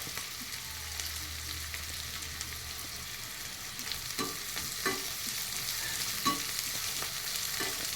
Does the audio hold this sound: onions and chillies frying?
yes